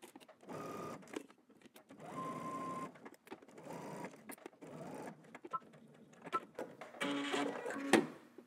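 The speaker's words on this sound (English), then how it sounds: "we're gonna stitch using 5/8 of an inch seam allowance, stopping at the dot" Sewing machine stitching a 5/8-inch seam on a McCall's 8339 garment, running in several short bursts with brief pauses for backstitching, fairly quiet and close, ending with some clicks and handling.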